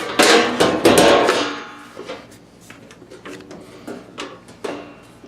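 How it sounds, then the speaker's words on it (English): The metal top cover goes back onto a SpeakerCraft BB1235 12-channel amplifier under repair: a burst of loud clattering knocks and scrapes, then sparser clicks and taps, close up and with no speech. "And I just got to put the top cover on."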